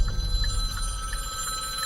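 A phone rings with a repeating electronic tone, several short chirps in a steady rhythm over a low rumbling background inside a moving Hyundai Ioniq 5.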